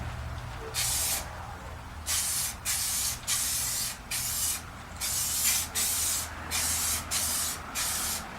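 Repeated short bursts of an aerosol spray can applying SEM bumper paint to headlight buckets on a 1986 Mustang GT, about nine hissing passes in a steady on-off rhythm, close and fairly loud over a low background hum.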